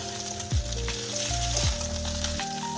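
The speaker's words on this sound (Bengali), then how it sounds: "ভাজা হয়ে গেছে ঠিক এরকম লাল লাল করে ভেজে নিয়েছি" Cauliflower pieces fry in a pan until reddish, giving a steady, close sizzle throughout with a few short stirring clanks.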